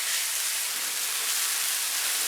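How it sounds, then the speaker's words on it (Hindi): Onion, ginger and garlic lightly frying in a pan, a steady, even sizzling hiss at close range with no pauses and no talking. "प्याज और अदरक लहसुन को मैंने हल्का सा फ्राई कर लिया है।"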